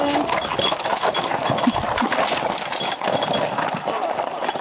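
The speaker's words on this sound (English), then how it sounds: "There's horses going by," Horses clip-clop past along a road in Viscri, a small Transylvanian village in Romania, their hooves tapping in a steady rhythm against a busy outdoor background.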